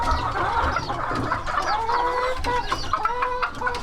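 Philippine fighting chickens on a breeding farm in Gorontalo, Indonesia, cluck steadily in a busy flock, with overlapping calls and short squawks over constant farmyard background noise.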